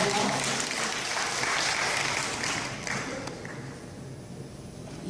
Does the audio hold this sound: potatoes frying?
no